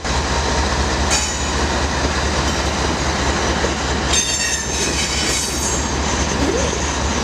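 Union Pacific freight train cars rumbling steadily through a rail yard during switching moves, a continuous close low roar with metallic wheel squeal and faint clatter, no voices.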